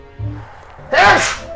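A single sharp sneeze bursts out after a faint voice, loud and close, with a brief noisy exhale trailing off.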